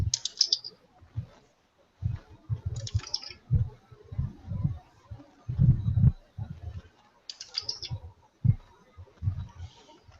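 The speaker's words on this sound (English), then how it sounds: "My keyboard is so loud." Clicky keyboard typing comes in quick bursts and pauses, close to the microphone, with soft bright ticks scattered throughout.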